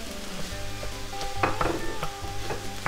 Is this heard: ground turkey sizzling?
yes